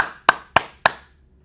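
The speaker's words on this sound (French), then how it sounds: "merci Mathis, on s'applaudit les gars." Three sharp, separate hand claps at an even pace, close and loud, with a short silence after each.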